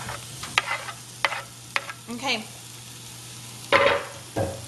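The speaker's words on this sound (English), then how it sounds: "Oh, sizzling already." Food sizzles in a pan with a soft, steady fry, broken by scraping stir sounds and a brief spoken word.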